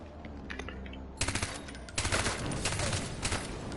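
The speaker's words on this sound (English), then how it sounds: "No, just a turret." A mounted turret gun in Far Cry 4 fires loud, rapid bursts of automatic gunfire, starting with a short volley and then a denser, sustained stream of shots up close.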